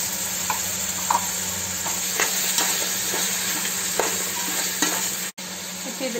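Beans, carrots and peas fry and sizzle steadily in a pan for vegetable biryani, with scattered stirring scrapes and light taps throughout.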